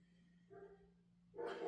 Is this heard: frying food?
no